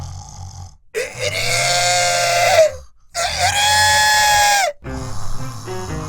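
Two long, loud, strained crowing calls close by, each lasting about two seconds, separated by a brief pause, followed by faint background sounds.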